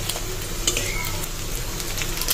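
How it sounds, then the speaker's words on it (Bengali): Egg frying in a pan with dry chilli, onion and garlic, stirred steadily: a continuous close sizzle with light scraping and occasional clinks of utensil on metal, no voices. "ডিম ভাজা হয়ে গিয়েছে"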